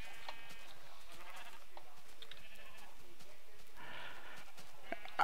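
Sheep bleat in Minecraft, several short nasal calls scattered across a quiet, busy background of small clicks and game noises, with no clear speech.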